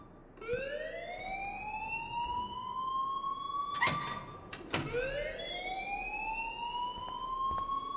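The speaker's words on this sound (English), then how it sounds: "please turn off that alarm since that's your job" An alarm in the video game Life Is Strange wails in long rising siren sweeps, loud and continuous, repeating in cycles with a couple of sharp clanks breaking in midway.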